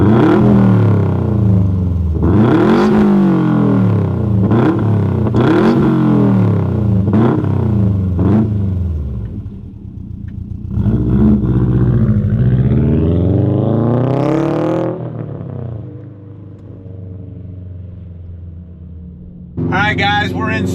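A 2018 Subaru WRX STI Type RA revs hard through several rapid gear pulls, its engine note rising and dropping in repeated sweeps, then settling to a lower cruising drone, heard close from inside the cabin.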